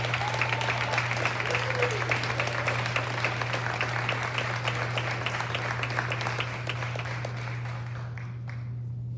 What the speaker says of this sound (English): So another round of applause for these students